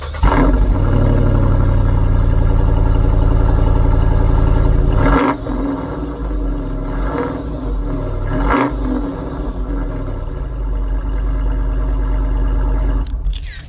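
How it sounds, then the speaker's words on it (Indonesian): A Jeep Wrangler 392 started with a key button gives a loud, roaring engine note that drops sharply after about five seconds to a lower, rumbling idle with occasional blips, heard alone without talking. "seharusnya suara Jeep seperti itu"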